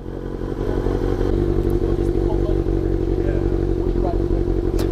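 Engine of a 2016 Kawasaki ZX6R 636 sport motorcycle idling and burbling nearby at night, a steady loud rumble with light clatter.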